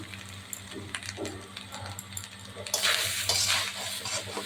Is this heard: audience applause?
no